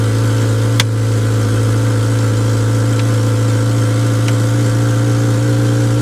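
Rough exhaust of an old, classic Honda Accord idling, a steady near drone with a few faint clicks on top.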